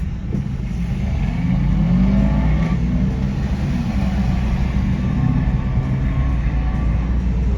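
Fiat Abarth car engine revving, a loud low throaty rumble that rises and holds steady, heard up close for several seconds without speech.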